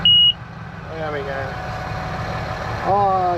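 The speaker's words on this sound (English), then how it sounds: "so our seed alarm's now on" A tractor's seed drill alarm gives a short, sharp electronic beep over the low, steady idle of the engine, and a voice speaks over the running engine afterwards.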